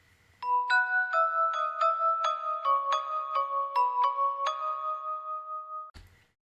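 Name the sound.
bells playing in the background of a song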